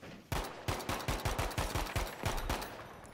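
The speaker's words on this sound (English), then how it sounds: "Look lively, enemy machine gun." Enemy machine gun firing in Battlefield 5, a rapid steady burst of about a dozen punchy shots in even rhythm, fairly close and sustained across the whole stretch with no talk over it.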